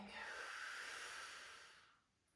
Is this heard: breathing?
yes